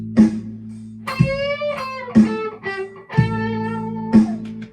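Overdriven electric guitar alternates a low chugging figure with a higher note that rises in pitch as the string bends, repeated several times.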